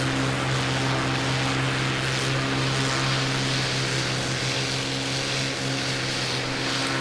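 A Mig 3 propeller plane in Microsoft Flight Simulator drones steadily on approach to land, its engine a loud, even hum with a constant low throb and no voices.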